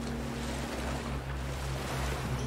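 Open ocean in the survival game Stranded Deep: a steady, full wash of surf and rolling waves with a low rumble underneath, continuous and fairly close, with no voices.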